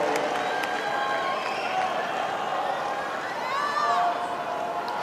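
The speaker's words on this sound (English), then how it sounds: "Huge crowd inside Arthur Ashe Stadium trying to play their parts." A large crowd at Arthur Ashe Stadium during a 2023 US Open tennis match between Ons Jabeur and Marie Bouzková, a loud sustained roar of cheering and applause that swells near the end.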